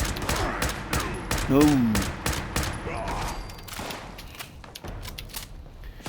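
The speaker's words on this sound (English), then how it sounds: "Even though this gun doesn't do a lot of damage, it's a hell of fun just to keep on popping shots out and taking them down." Rapid gunfire from a weapon in the video game Fallout 76, with a steady stream of sharp repeated shots close and loud, plus a brief exclamation from a player.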